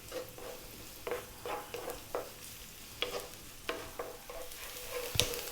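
Onions frying in olive oil in a saucepan over medium-high heat, a quiet sizzle broken by repeated scraping stirs in an irregular rhythm, with one sharper clink near the end.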